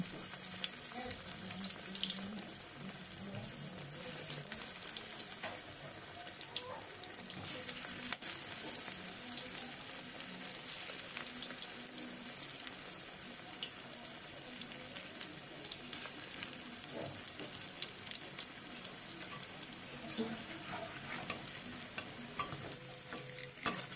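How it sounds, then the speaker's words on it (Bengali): Coriander leaf fritters fry in hot oil with a soft, continuous hiss and crackle, steady and fairly faint throughout with no talking. "এবার এক এক করে বড়াগুলো তেলের ওপরে ছেড়ে দেব।"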